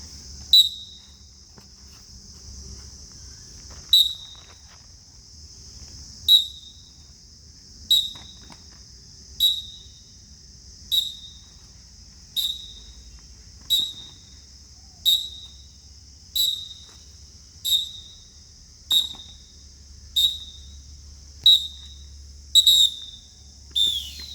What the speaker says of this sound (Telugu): ఎక్సర్సైజ్ విత్ విజిల్తో చేస్తాను